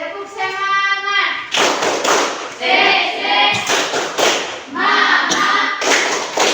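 A group claps in a quick rhythmic pattern, loud and close, broken up by people chanting and shouting in Indonesian between bursts.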